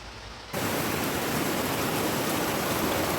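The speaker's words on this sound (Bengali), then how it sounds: "বৃষ্টিটা কিন্তু ভালোই জোরে হচ্ছে শুরু হলো বাপরে" Heavy rain begins abruptly after a brief quieter moment, then pours as a steady, dense roar of hiss that fills the surroundings without pause and with no voices.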